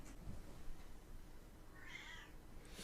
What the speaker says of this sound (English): I got a cat outside, guys.